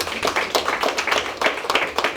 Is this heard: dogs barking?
no